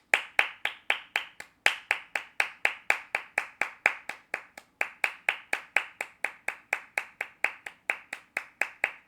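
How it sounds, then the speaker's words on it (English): One person claps alone, a crisp, evenly spaced string of about three or four claps per second, close and clear with a brief break partway through, offered as a round of applause for soccer player Alex Freeman. "can we get another round of applause for Alex Freeman?"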